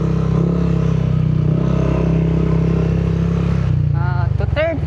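A motorcycle idles with a steady low engine rumble and clatter while being loaded onto a roro vessel bound for Siargao Island, with a voice briefly heard near the end.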